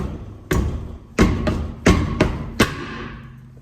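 Hammer whacks on the rear brake drum of a 1996 Chevy Cavalier: five or six loud, sharp metallic blows in an uneven rhythm, each ringing briefly before the next, close up with no talking.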